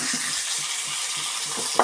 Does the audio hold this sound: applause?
no